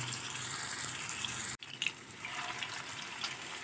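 Chicken seekh kebabs shallow frying in about two tablespoons of oil, a steady close sizzle and crackle that breaks off for a moment, then resumes with soft spitting bursts.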